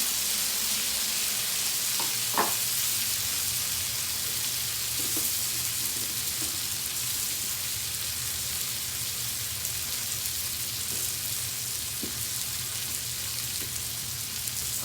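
Frozen bubble burgers cooking on a camp stove outdoors, a continuous even sizzle and crackle with a few faint clicks, steady throughout and nobody talking.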